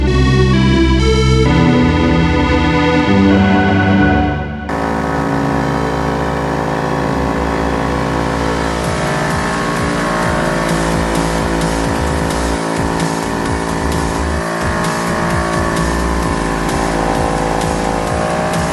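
A portable off-road air compressor runs continuously at close range, a steady loud mechanical drone with dense rattling texture, shifting slightly in tone after the first few seconds as it keeps pumping.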